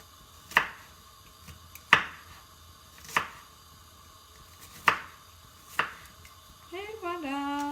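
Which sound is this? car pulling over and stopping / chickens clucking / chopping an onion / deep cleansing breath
chopping an onion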